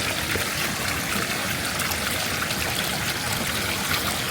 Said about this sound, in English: there's a lot of water coming down